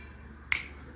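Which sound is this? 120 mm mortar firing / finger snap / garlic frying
finger snap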